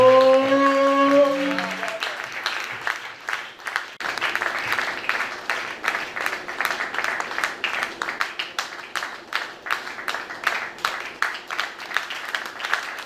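A Sunday church congregation breaks into sustained applause, many hands clapping in a dense, rolling rhythm that holds steady for several seconds after a short spoken phrase at the start.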